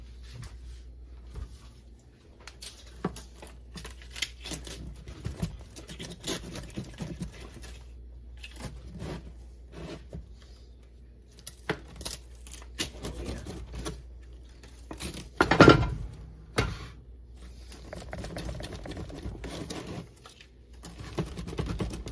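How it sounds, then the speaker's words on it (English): Homemade crab rangoon pizza being sliced, with scattered crunchy crackles and scrapes of cutting through crust, soft and close, plus one louder scraping rasp near the end. "my husband is going to cut the pizza up"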